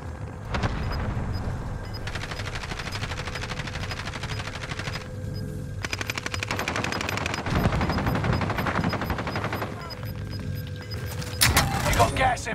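Rapid video-game gunfire in an outlasting match with gas closing in: long bursts of automatic shots crackle almost nonstop, near and loud, with brief gaps and a sharper burst near the end.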